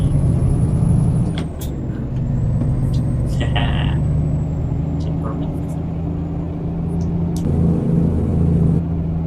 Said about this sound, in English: One is new parking brake sound, and another one is new brakes.